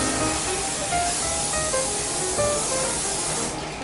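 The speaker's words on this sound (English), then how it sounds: "let's use some oil to grease the pan" Cooking oil sprayed onto a cake pan to grease it, a steady close hiss lasting several seconds before fading slightly at the end.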